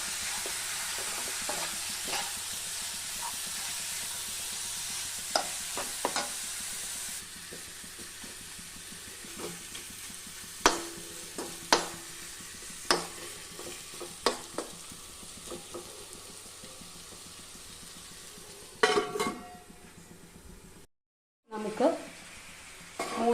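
Pepper chicken roast cooking in a pan, mixed and covered: a steady sizzling fry runs throughout, with occasional sharp clinks and scrapes of stirring, then a brief dropout near the end.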